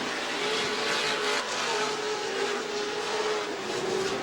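Off-road race trucks, including an Amsoil truck, roar around the 2007 CORR Las Vegas course in a steady, sustained engine drone with a slight rise and fall in pitch, heard at a moderate distance.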